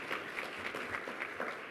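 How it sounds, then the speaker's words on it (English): Audience applause at a health equity forum, a steady patter of many hands clapping that stays faint and distant for a short stretch. "that deserves applause."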